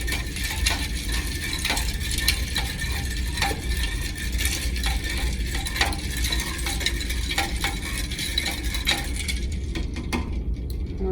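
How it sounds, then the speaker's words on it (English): A spoon stirs limeade until the sugar dissolves, giving repeated scraping and clinking taps against the container at a steady rhythm, close and moderately loud, fading out at the end. "we're going to take our spoon and we're just going to mix it up until it dissolves"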